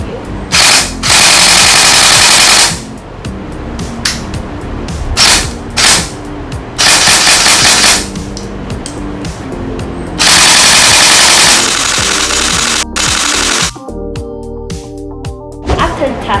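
An LCT airsoft gun in its EBB (electric blowback) version fires several loud, rapid full-auto bursts, each a few seconds long, separated by short pauses in which voices can be heard talking.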